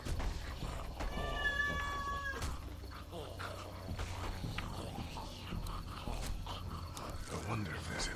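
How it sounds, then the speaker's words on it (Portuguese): A pet cat in a Walking Dead game scene gives one drawn-out, clear meow, set against quiet background ambience with insect-like chirping and soft footsteps. "Minha gatinha tá caminhando."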